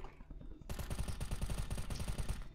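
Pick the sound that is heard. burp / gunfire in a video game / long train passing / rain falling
gunfire in a video game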